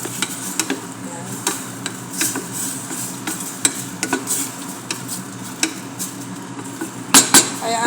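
Shrimp for tom yum cooking in a pan, with soft sizzling under repeated clinks and scrapes of a utensil stirring against the pan, sharp knocks scattered throughout and a louder clatter near the end.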